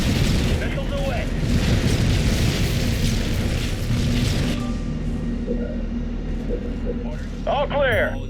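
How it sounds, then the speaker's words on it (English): Missile explosions in the Halo Wars real-time strategy game, a continuous rumbling roar of booms and blasts with game voices over it, fading toward the end before a short electronic chirp. "Missiles away."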